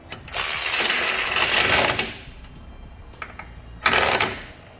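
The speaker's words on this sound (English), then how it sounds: "I'm going to come back with that 15mm socket and snug up the factory extension bolts." A ratchet with a 15mm socket tightens factory extension bolts on a 2017 Jeep Cherokee during a base plate install, giving two bursts of rapid clicking separated by a quieter pause, close by.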